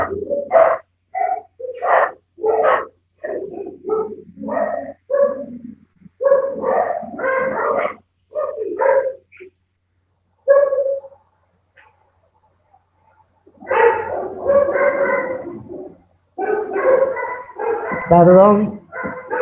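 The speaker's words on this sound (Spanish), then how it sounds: "viene gente y mis perros se enloquecen" Several dogs bark and yip excitedly at people arriving at a home, in repeated bursts under nearly continuous talk from a nearby speaker.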